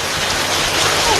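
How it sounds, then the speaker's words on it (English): Rain pouring in a dense, loud, continuous hiss, close and steady throughout with no clear voices. "Why is it raining?"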